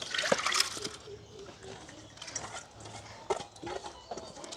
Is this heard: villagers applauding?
no